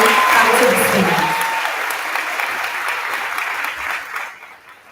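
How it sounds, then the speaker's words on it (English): An elementary school promotion ceremony crowd applauds student council and Beta Club students, loud sustained clapping with some voices mixed in, tapering off toward the end. "Let's give them a round of applause as they come to the stage."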